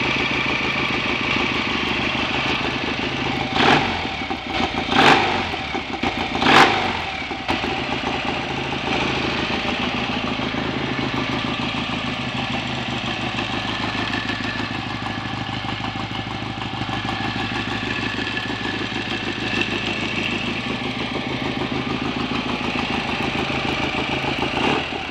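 A BSA A65 Thunderbolt motorcycle engine idles steadily on the fuel left in its carburetor, a close, loud, even mechanical chug with a few sharp clattering blips partway through and no talking.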